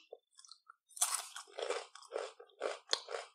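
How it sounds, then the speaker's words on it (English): Close crunching and chewing of tortilla chips from a Japanese snack subscription box, several loud bites followed by steady rhythmic munching, with no talking. "Oh, these are tortilla chips."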